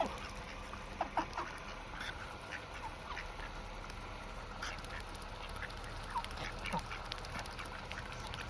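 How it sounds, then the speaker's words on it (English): Ducks outdoors near a bag of bird food give scattered, fairly faint quacks and clucking calls over a steady background hiss, with a few sharper calls standing out. "They're such good duckies."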